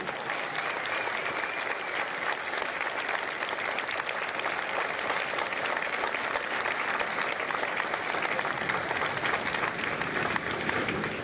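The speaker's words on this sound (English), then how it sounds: "Ladies and gentlemen, a round of applause for their dedicated service to Corps and country." A large audience at a Marine Corps recruit graduation ceremony at MCRD San Diego gives steady, dense applause that holds unbroken for about eleven seconds, with a faint crowd murmur beneath it.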